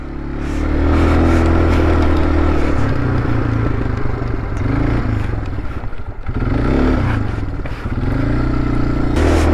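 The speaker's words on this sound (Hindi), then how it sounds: "बताओ गाइस कैसा लग रहा है चला रहा हूँ मैं एटीवी।" ATV engine running steadily and loudly while someone rides it in Ladakh, between Turtuk and Nubra, with the motor's drone rising and falling as the throttle shifts. Brief metallic rattles and scrapes sound over the engine.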